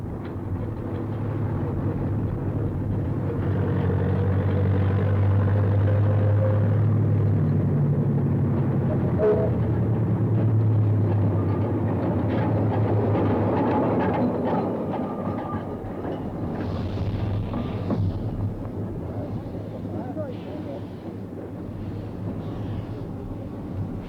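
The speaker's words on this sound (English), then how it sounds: "Moyle Hebog hauled the first train of visitors across the Cobb to the Boston Lodge Locomotive Works" The Moel Hebog locomotive hauls a train of visitors across the Cobb toward Boston Lodge Locomotive Works on the Ffestiniog Railway during its 1986 gala, a continuous rumble with wheels clattering over the rails as the train passes in windy weather.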